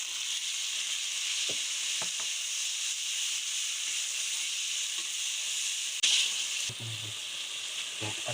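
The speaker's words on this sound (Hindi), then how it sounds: "तो अब हम इसमें ऐड कर देते हैं टमाटर और टमाटर को अच्छी तरह से हल करेंगे" Tomatoes fry with browned onions in a pan for a chicken karela curry, a steady loud sizzle and hiss throughout, with a few soft stirring knocks and a brief louder clatter near the end.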